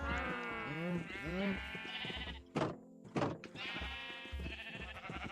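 Minecraft sheep give two wavering bleats in quick succession, followed by a couple of dull thunks and further bleating, clear and close.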